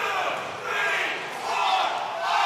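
Crowd at a Major League Pickleball match in Dallas, Texas Ranchers versus New Jersey 5s, cheers and chants in rising and falling waves, a broad roar swelling three times.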